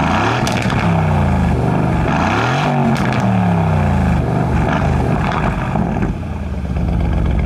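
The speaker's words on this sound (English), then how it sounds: "take a listen to the exhaust then." A 2021 Aston Martin Vantage Roadster's exhaust in Track mode roars loud and close, the engine revving up and down in repeated sweeping pulls with a deep, rumbling note.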